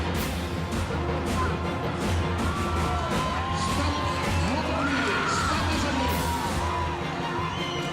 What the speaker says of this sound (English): The crowd is really starting to get heated up, cheering on their favorites.